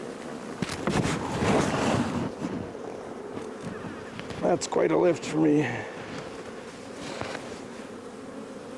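Honey bees buzz around an opened, heavy hive during a honey harvest, a steady droning swarm close to the microphone while someone talks over it.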